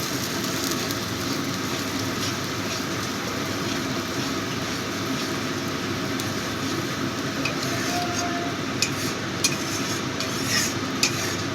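Spices and onion being stirred and sautéed for a Bengali tel koi fish curry, a dense continuous sizzle with scraping strokes and a few metallic spoon clinks near the end.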